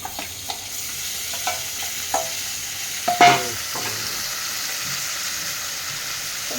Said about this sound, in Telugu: ఈ మటన్ వేసేద్దాం రైట్ ఓకే కొంచెం ఫ్రై కావాలి మటన్ వేసేద్దాం